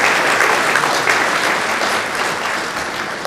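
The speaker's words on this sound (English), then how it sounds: "A round of applause for the Islamic Society of Australia." Sustained audience applause fills a hall at an Islamic Society anniversary event in South Australia, a dense, steady clapping from a large crowd that holds loud for several seconds before easing slightly.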